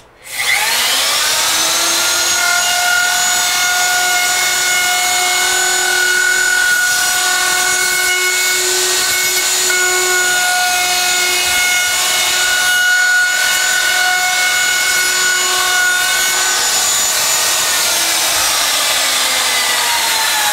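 Handheld wood router cutting a chamfer edge along a board, a loud continuous high-pitched whine with grinding cut noise that holds steady for about twenty seconds before spinning down.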